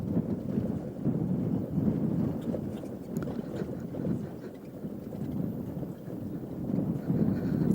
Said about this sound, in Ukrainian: Так невеличкий західний вітерець дує.